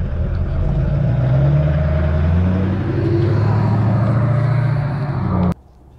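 Steady heavy road traffic rumbles across a busy bridge where someone is fishing, a dense continuous drone of passing cars and trucks that cuts off abruptly near the end.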